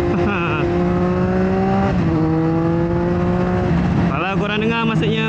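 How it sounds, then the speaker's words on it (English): A motorcycle with a newly fitted decat exhaust runs loud and near, holding a steady droning tone and then revving with rising pitch toward the end. "Aku baru tukar exhaust system, bukan full system, decat system"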